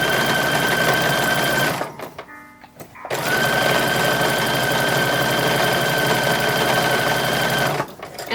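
A sewing machine stitches up a slit in the back of an infant's dress, running loud and steady, pausing for about a second, then running on before stopping again.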